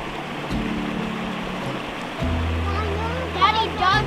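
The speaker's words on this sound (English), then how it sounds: "Look at this pretty waterfall." A small waterfall beside a beaver dam gives a steady rushing wash of water throughout, with people talking over it nearby.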